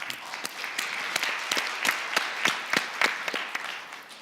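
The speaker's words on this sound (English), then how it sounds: "let's welcome them with a round of applause." A smaller audience at a global media forum applauds panelists with a short, sparse round of claps, individual hand slaps standing out in an irregular rhythm.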